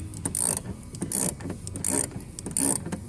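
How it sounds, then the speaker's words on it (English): A broken spark plug extractor tool being tightened into the cylinder head threads of a Ford 5.4L 3-valve engine, heard as repeated ratcheting bursts in a steady rhythm, close and moderately loud. "you're going to tighten the plunger body of that tool down into the spark plug threads inside the head itself"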